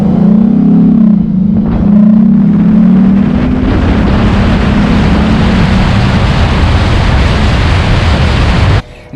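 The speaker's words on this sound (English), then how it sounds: "this intake make this engine sounds really good." A Lexus IS350 engine fitted with an F-Sport air intake roars loudly and steadily, a broad, close rumble that swells early and holds for several seconds before cutting off abruptly.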